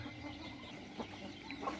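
Chickens in a backyard coop behind a house, with hens and month-old chicks, cluck faintly and intermittently against a steady low background hum, with a couple of brief, slightly louder calls near the end.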